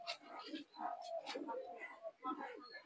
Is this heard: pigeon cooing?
yes